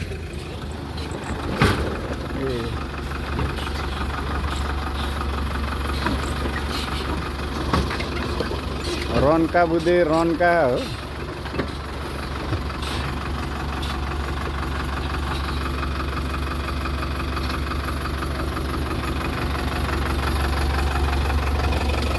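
A vehicle engine idles and runs on a steep mountain road, a steady low drone throughout with a short burst of louder revving midway, while a person calls out briefly over it.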